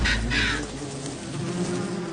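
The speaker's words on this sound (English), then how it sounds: "Wasps, usually best left alone." Wasps buzzing around a nest in a steady, dense drone close by, with a brief harsh burst near the start, no voices.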